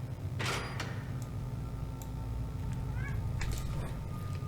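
A cat in Dragon Age Inquisition gives a couple of faint, short meows amid low ambient game background noise and scattered clicks.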